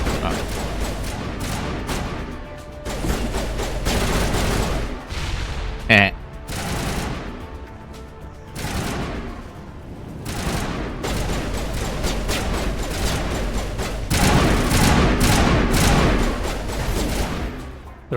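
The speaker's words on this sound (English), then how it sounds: "What are you shooting at?" Rapid gunfire from the Mass Effect video game fills the whole stretch, with dense bursts and volleys running nearly continuously, one sharp loud shot near the middle, and a person briefly making small exclamations over it.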